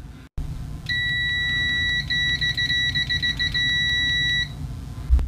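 A Parkside PDM300 C2 budget multimeter sounds its continuity beep: one steady high-pitched electronic tone held for about three and a half seconds with slight flutter, close and fairly loud over a low background hum.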